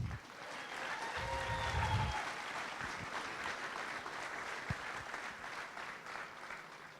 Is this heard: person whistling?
no